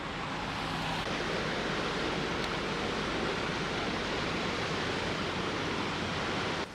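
Floodwater rushes hard down a river swollen by a typhoon, a steady, dense roar of churning water that holds loud and unbroken throughout.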